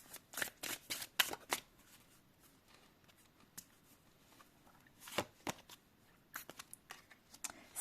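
Tarot cards being shuffled and handled during a card reading, brisk riffling bursts and soft slaps in irregular clusters, close and fairly quiet, with pauses between bursts.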